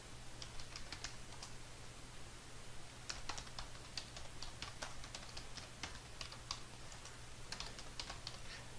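Fingers type on a computer keyboard while entering referral details into healthcare software, producing quick irregular clusters of close, crisp key clicks over a low steady hum.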